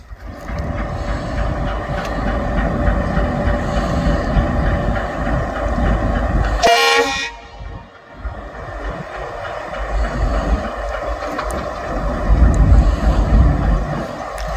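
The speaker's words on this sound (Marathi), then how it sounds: "खतरनाक नागमोडी वळणावरती गाडी स्लो चालली।" A train moves slowly along a winding track, a steady close rumble with clattering wheels and humming tones, broken by a sharp burst midway before the rumble resumes and swells toward the end.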